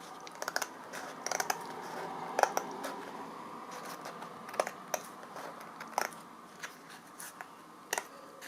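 Scissors cutting paper in a craft setting, a steady papery rustle with scattered sharp snips and clicks spread across several seconds.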